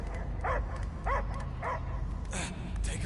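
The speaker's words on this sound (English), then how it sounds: "I hear only barking" A dog in the video game Guardians of the Galaxy barks in four short, separate bursts over a low background rumble.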